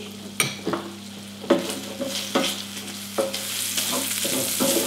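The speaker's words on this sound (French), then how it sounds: "je mélange" Crème fraîche being stirred with chives and pepper, repeated scraping strokes of a utensil against a bowl in an uneven rhythm over a steady low hum, close and fairly loud.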